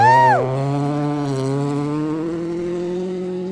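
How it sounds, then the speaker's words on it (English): A rally car on a gravel stage slides through a drift, engine note dropping sharply from a high rev as the handbrake is pulled, then holding a steady droning tone, close and loud throughout. "That might have been a pull of the handbrake. Some dirty drifting."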